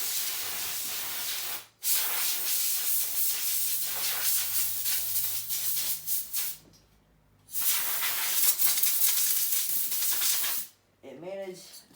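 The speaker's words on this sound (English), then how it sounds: "after a quick blowout with the air compressor." Compressed air from an air compressor blasts at the engine of a 2005 Honda CRF70 in three long hissing bursts separated by short pauses, loud and close, with a brief voice at the very end.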